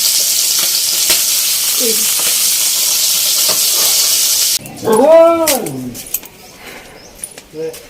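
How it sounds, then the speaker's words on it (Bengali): Fish frying in a pan gives a steady close sizzle for several seconds, then stops abruptly and gives way to a quieter room where a cat-like cry and other brief household sounds follow. "মাছ ভাজা বসিয়ে দিয়েছি।"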